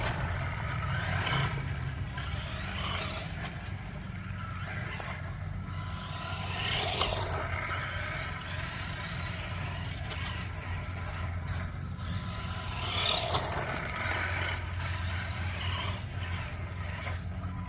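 An RC car with a Radiolink CL9030 electronic speed controller runs at a distance as a faint, steady motor whir with scraping tire noise, swelling briefly a few times as it drives and reverses.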